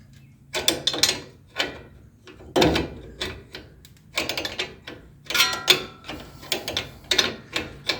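Wrenches work loose the sway bar link nuts on a 2021 Ford Ranger FX4 during a Skyjacker 3.5 inch lift install, giving close, repeated metallic ratcheting clicks and clanks in irregular bursts.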